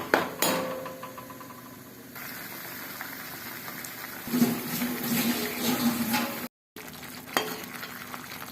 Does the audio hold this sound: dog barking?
no